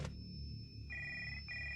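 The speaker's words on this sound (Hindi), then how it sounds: "फोन बजा।" A telephone rings in a room, a clear electronic ringing tone that starts after a brief click and repeats in two short bursts over low background hum.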